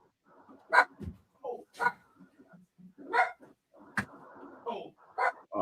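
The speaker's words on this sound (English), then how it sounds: "I hear the dogs." Dogs bark in short separate bursts, about seven across several seconds with gaps between, fairly close, with some yips and whimpers mixed in and talk around them.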